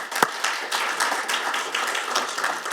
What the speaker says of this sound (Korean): 박수로 환영해 주시죠.